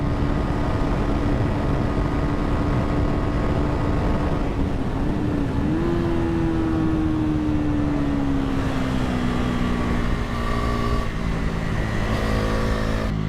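A Bajaj Pulsar NS400Z motorcycle ridden on a race track makes a loud, continuous engine drone whose pitch rises and falls with throttle and gear changes. No one speaks.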